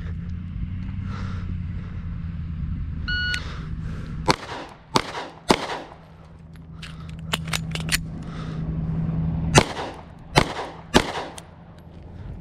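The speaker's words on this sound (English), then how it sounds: "fire 3 rounds, reload" Wilson Combat EDC X9 pistol fired on an outdoor range: three sharp, loud shots, a pause during the reload, then three more cracks, with a low engine-like drone in the background.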